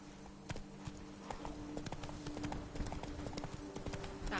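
Roach, a horse in The Witcher 3, gallops with rapid, repeated hoofbeats thudding nearby in a quick, uneven rhythm, faint overall and set over soft ambient game noise.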